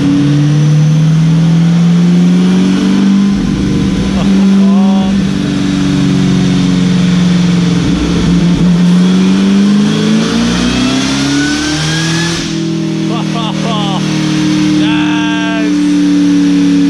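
A supercharged car engine revs loudly up close, rising and falling in pitch with a whining tone over a heavy rumble, with faint voices in the background.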